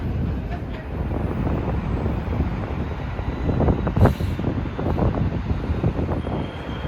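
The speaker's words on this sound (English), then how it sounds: "here comes an N train bound for Astoria" An N subway train bound for Astoria pulls into Queensborough Plaza station in New York City, a steady loud rumble and rattle of wheels on elevated track with wind buffeting, swelling as it arrives.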